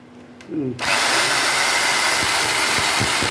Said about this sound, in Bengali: মার্কিং করে নিয়েছি, এখন আমরা ড্রিল করে দেবো।